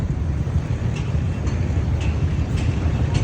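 An LRT train at a station in Kuala Lumpur, a loud, steady low rumble with continuous mechanical roar and faint higher squeaks throughout.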